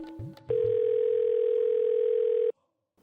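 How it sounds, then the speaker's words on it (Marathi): A telephone dial tone sounds while a call is placed, one steady, unbroken hum lasting about two seconds, faint and clear, preceded by a few brief clicks. "मला लावू दे ना फोन."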